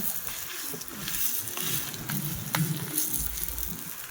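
Food frying in oil on a restaurant griddle, a quiet continuous sizzle with crackling pops and scraping, moderately close and fairly soft.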